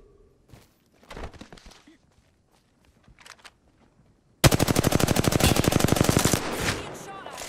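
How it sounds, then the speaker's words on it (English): Loud rapid automatic gunfire in a sci-fi shooter video game erupts after a few faint clicks and footsteps, a steady machine-gun stream that hammers on for about three seconds near and dominant. "Being shot at."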